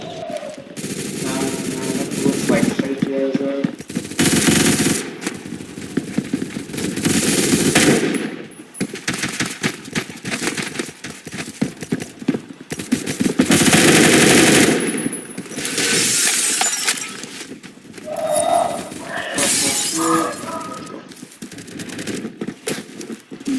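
Rapid automatic gunfire from the Phantom Forces video game crackles in repeated loud bursts across the whole stretch, with short pauses between volleys and several overlapping shooters.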